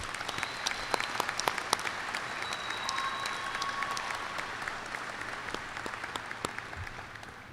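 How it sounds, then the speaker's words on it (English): A large audience at a high school graduation ceremony claps at length, a dense even wash of applause with a few sharper individual claps, heard somewhat distantly through a live stream, with no talking over it. "Let's give your family and friends a round of applause to thank them for all they have done in helping you to prepare for this day"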